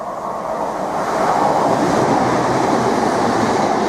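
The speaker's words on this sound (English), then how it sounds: "we've got another Turbostar unit now, en route from Ipswich to Peterborough" Turbostar diesel unit running through a rural station between Ipswich and Peterborough: a steady, loud rumble of engine and wheels on rails that swells as the train goes by, with no talk.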